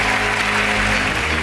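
Audience applause at a gala, a loud, steady roar of many hands with a low hum underneath, filling the whole short stretch.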